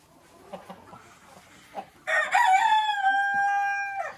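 Rooster crowing loudly and close inside a chicken barn among red Wyandotte and lavender hens, a long sustained cock-a-doodle-doo following a few soft clucks and shuffles, no talk over it.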